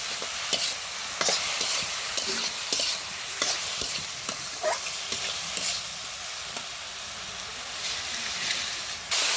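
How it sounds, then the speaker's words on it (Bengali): Bhumba stir-fried in a pan with turmeric, a steady close sizzle and hiss broken by repeated scraping stirs and clacks of the spatula throughout, with no voices. "দেখুন কত সুন্দর করে ভাজিটি করা হচ্ছে নাড়াচাড়া দেওয়া হচ্ছে"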